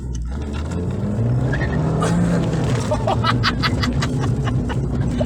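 A 2019 Abarth 595 manual's engine roars and builds speed, a steady loud motor drone with rising pitch, while voices murmur faintly in the background.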